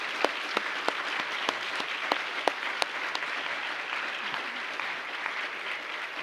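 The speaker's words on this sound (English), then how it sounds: "So a round of applause for our faculty." A graduation ceremony audience applauds the faculty with steady, full clapping from a large crowd, a few sharper individual claps standing out early on, continuing evenly throughout.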